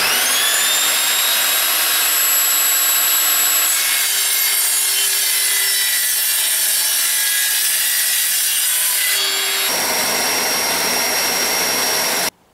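An Evolution Rage 5-S table saw cuts through aluminium, a loud, high-pitched whining screech over the running motor that shifts pitch as the blade bites, then cuts off abruptly at the end.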